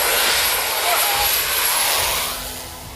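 A small airplane's engine drones steadily and fairly loudly as the plane comes in to land at Gustav III Airport on St. Barthélemy, the broadband roar easing off toward the end.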